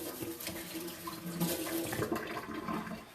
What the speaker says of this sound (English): Okay, gonna wash my hands.